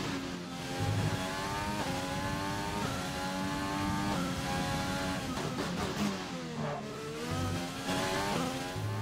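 An F1 race car engine in the F1 2020 game, loud and continuous, its high whine rising and falling through gear shifts and throttle changes, with brief tire squeal and no talk.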